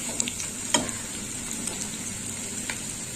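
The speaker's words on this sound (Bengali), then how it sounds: "হলুদটা একটু ভাজা হোক এর সাথে" Turmeric and spices frying in a pan with prawns for a mixed-vegetable prawn curry give a steady, moderately loud sizzle, with a few sharp utensil taps and stirring scrapes over the hiss throughout.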